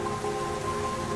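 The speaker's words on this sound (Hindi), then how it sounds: "बारिश का पानी पूरा घोंसले में आ रहा है" Rain falls steadily on a bird's nest in a comedic cartoon, a dense, close, even patter with a faint tonal hum running underneath.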